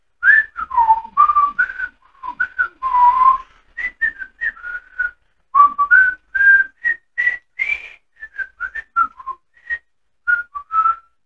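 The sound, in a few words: person whistling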